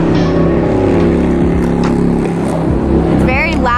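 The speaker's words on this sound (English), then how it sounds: "It's very loud in the street back there" Loud, steady traffic and engine roar from the street behind a food truck, a continuous rumble with passing vehicles and a brief high squeal near the end, with faint voices in the mix.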